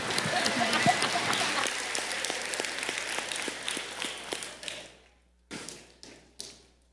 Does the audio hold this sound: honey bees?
no